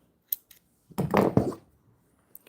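Scissors snip through yellow yarn during a crochet color change, a couple of faint clicks followed by a louder double cutting snap at close range, then quiet.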